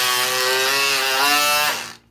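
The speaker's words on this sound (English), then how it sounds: "Okay, and then I cut across the shoulder here." A garment is cut across its shoulder seam during an upcycling project, giving a loud, steady buzzing drone that holds for about two seconds and then stops abruptly, with no voices.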